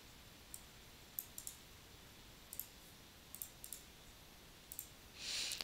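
Sharp, quiet computer mouse clicks come in small clusters of single and double clicks, spaced irregularly against a faint steady hiss, followed by a brief soft rustle at the end.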